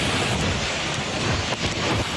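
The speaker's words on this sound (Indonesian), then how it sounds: "Hembusan angin yang kuat membuat atap rumah warga terangkat dan berterbangan." Sudden storm wind with heavy rain in Mangunjaya village, Pangandaran, West Java, roaring as a dense, steady wash of noise with gusty surges and no voices.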